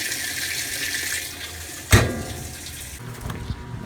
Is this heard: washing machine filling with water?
yes